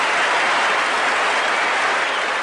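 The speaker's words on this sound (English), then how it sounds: "Even Felix Around is applauding the catch." A stadium crowd at a 1979 Australia versus West Indies Test cricket match applauds a catch by Ian Botham, a continuous broad roar of distant clapping that stays even and sustained throughout.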